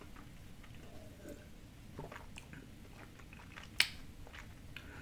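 Someone biting into and chewing a Reese's Peanut Butter Cup close to the mic. Soft, quiet chewing continues throughout, and one sharp crunchy bite snaps out near the end.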